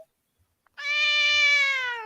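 A cat lets out one drawn-out, clear meow lasting over a second, close and fairly loud, after a near-silent pause with a couple of faint ticks.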